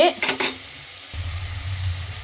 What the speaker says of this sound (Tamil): அது கூடவே கொஞ்சம் கருவேப்பிலையும் போட்டு நல்லா வதக்கலாம்